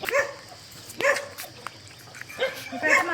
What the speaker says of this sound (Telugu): నైట్ కుక్కలు అయితే వదిలేస్తారంట అవైతే సౌండ్ అయితే చేస్తున్నాయి మరి